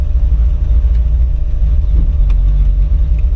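A 1928 Ford Tudor all-steel street rod sedan running in a park, its engine a loud, steady low rumble up close, with a brief rise partway through and no talking.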